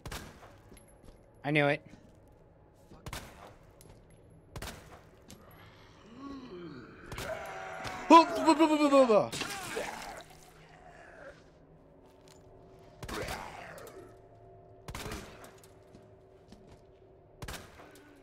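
Gunshots in Resident Evil 2 fire as sharp, separate cracks spaced every second or two across the clip, loud against a quiet background, with groans and a brief spoken voice in between.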